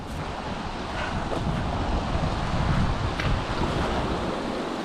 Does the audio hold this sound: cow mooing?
no